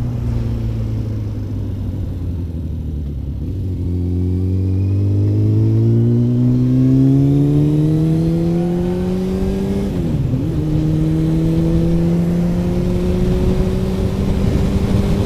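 A Kawasaki motorcycle engine heard on the move through a quiet town, loud and close, rising in pitch as it accelerates through gears with a brief dip and shift around the middle, then settling into a steady hum.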